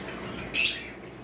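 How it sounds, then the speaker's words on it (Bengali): A pair of albino lovebirds gives a single short, shrill squawk partway through, standing out clearly above a quiet room background. "এখানে একটা পেয়ার অ্যালবিনো লাভবার্ড রয়েছে"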